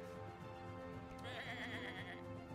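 A sheep in the video game Across the Obelisk bleats once, a quavering wavering cry rising over a dense layer of game music and effects, fairly faint in the mix.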